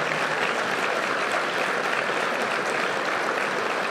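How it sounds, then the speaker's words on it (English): An award ceremony crowd gives a sustained, even round of applause for the finalists, loud and continuous with no break. "we need to give another round of applause for our great finalists"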